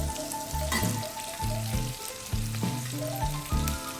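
Carrots frying in oil in a pan for carrot potato curry, a steady sizzle broken by several clattering stirs or scrapes at a roughly even pace, close and with no talk.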